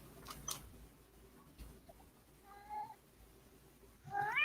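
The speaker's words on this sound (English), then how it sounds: "Apologies for the howling cat over here." House cat meowing faintly in a quiet indoor room during an online talk, with a couple of short mews and a louder, rising meow at the end.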